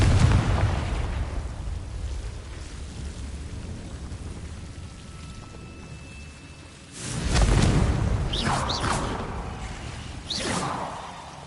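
Fiery Confringo spell blasts burst in the video game Hogwarts Legacy alongside another spell cast, giving several whooshing booms and crackling pops, with a heavy blast near the start and a loud cluster of bursts toward the end.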